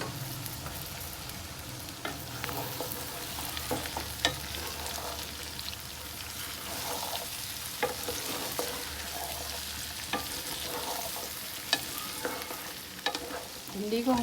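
Okra (bhindi) sizzles in hot oil, a continuous close frying crackle broken by occasional stirring scrapes and clinks, with no voices.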